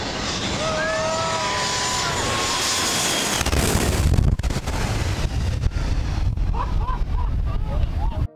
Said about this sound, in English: Close call at Maho Beach in St. Martin by an Amerijet Boeing 727.